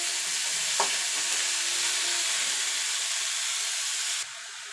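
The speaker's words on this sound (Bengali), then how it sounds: "এবার শাবলাটা মিনিটখানেক একটুখানি নাড়াচাড়া করে নেব।" Water lily stems frying in a pan hiss loudly and steadily as they are stirred, with a faint knock from the spatula early on. Near the end the sizzle suddenly falls to a softer level.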